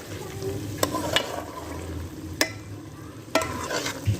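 Palak chana dal being mixed in a pot, with a few sharp scrapes and clinks of the spoon against the metal over a soft, steady background hiss.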